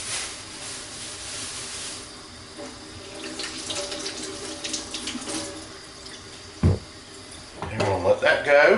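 Kitchen sink tap running while potatoes are rinsed by hand, a steady rushing stream with splashes and a louder gush near the end, heard beneath a person speaking.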